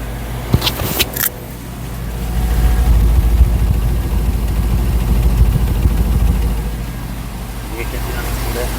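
A Bentley Mulsanne Speed idles with a low, smooth, quiet engine hum that swells slightly after a few clicks and jingles near the start.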